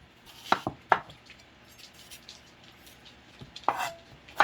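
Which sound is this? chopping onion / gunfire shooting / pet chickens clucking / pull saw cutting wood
chopping onion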